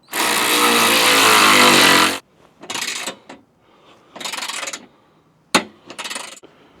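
A power tool tightens the running board bracket bolts on a Ford F150. A long, loud buzzing run comes first, followed by three shorter bursts and a sharp click, each separated by brief quiet.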